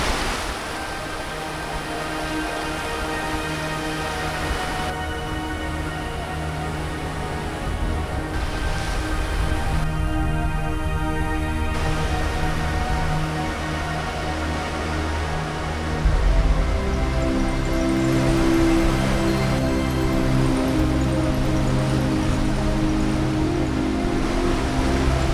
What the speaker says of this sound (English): The water washes in here.